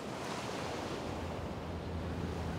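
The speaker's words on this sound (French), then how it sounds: "J'ai beaucoup de vagues." Ocean waves wash continuously against a rocky shore at a seal-hunting spot, a steady broadband surf roar with wind, moderately loud and constant throughout, with no voices.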